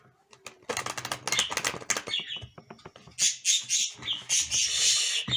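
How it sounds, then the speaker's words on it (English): Birds squawk and chirp outdoors in dense, overlapping bursts, busiest toward the end, with rustling that could be wings flapping. "Birds are going crazy today."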